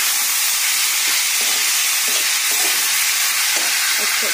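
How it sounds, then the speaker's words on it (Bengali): Bottle gourd greens in a hot pan give a loud, continuous sizzle and hiss, with faint stirring scrapes breaking through at intervals. "এবার লাউ শাকটাকে ঢেলে দিলাম।"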